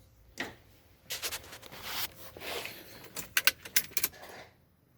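Keys jangle and click in the ignition switch of a Chevrolet S10 pickup, in short quiet bursts that grow busier toward the end, with no talking.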